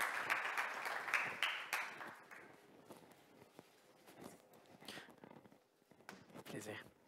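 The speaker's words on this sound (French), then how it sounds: "On l'applaudit." Audience applause at a tech showcase event as a presenter is invited on stage, loud at first then thinning into scattered claps, footsteps and murmured talk.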